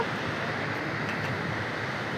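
Clear river water near the China border rushing past in a steady, dense broadband roar, close and constant, with no talk over it.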